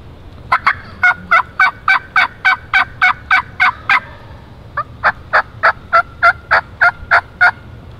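Wild turkey gobbling in the woods during a spring hunt in Pennsylvania, two rapid runs of loud, close, rattling gobble notes with a short pause between them over faint background noise.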